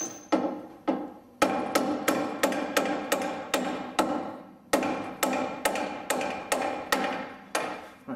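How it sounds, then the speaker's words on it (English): A hammer taps a Land Rover suspension bracket in a workshop: a run of sharp, evenly spaced metallic blows, close and loud, each ringing briefly before the next, with two short pauses breaking the rhythm. "You can hit that bracket with the hammer slightly just to persuade it over"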